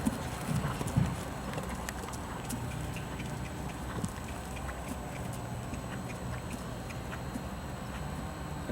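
Steady rhythmic clip-clop of hooves as a horse trots on, even and continuous, moderately close with faint background noise.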